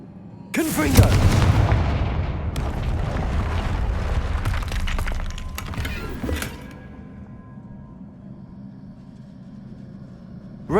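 A Confringo blasting curse exploding in Hogwarts Legacy: a loud, sudden blast followed by several seconds of roaring, crackling rumble that gradually dies down into a quiet ambient hum.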